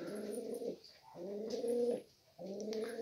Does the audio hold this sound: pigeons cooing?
yes